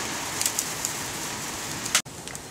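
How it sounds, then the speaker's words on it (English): Light rain falls outdoors with a soft, steady patter of drops, a brief louder tap near the end before a short gap. "just starting to get a little bit of rain"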